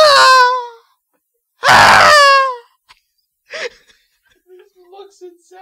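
A person lets out two drawn-out, wailing screams with falling pitch, separated by a pause, then trails off into quiet gasps and murmurs.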